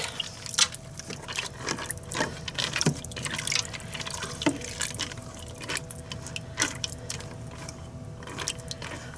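A can of water pours steadily into a pot for a hamburger rotini casserole, a continuous splashing fill with scattered clinks and drips over a soft background hum.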